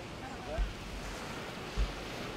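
Sea waves washing onto the eroding white-sand beachfront of Boracay, a steady broadband surf with wind buffeting the microphone and two brief low thumps.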